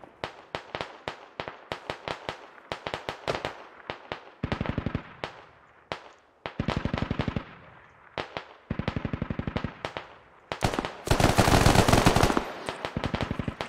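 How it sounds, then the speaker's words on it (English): Suppressive machine gun fire in the Squad military shooter, long rapid bursts of sharp, crisp shots separated by short pauses, with a louder, denser burst near the end. "Just start laying down suppressive fire."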